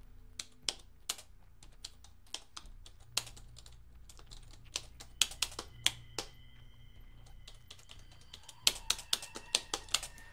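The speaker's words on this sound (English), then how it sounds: "let me grab a bonus keyboard so I can tippity tap away on it without making Isaac freak the fuck out." A spare computer keyboard clatters with irregular clicks and bursts of keystrokes over about ten seconds, close to the microphone, with a faint steady hum underneath and no talking.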